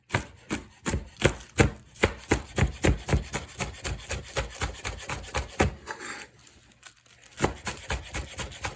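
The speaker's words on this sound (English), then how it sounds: "So these ones we're going to chop fairly small." A knife chops vegetables finely on a cutting board for a numb and spicy eel dish, striking in quick, even knocks of about two per second, briefly pausing near the end before resuming, with no voices.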